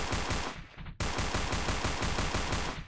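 Gunfire in the video game Space Station 14, rapid repeated shots in a dense burst with a brief gap near the start, then continuous rattling fire close and loud.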